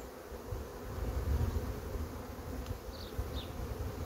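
Honeybees swarm around an opened hive while a colony is moved to a neighbouring box, making a steady, dense buzzing drone that holds throughout at moderate loudness, with no talk.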